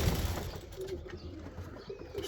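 Young pigeons at a backyard loft, heard as soft, low cooing murmurs repeating under steady outdoor background noise, close by and fairly quiet, with no talking.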